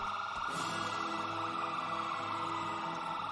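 A police car siren wails continuously in a video game roleplay at a police department riot, a steady electronic tone at moderate distance without voices.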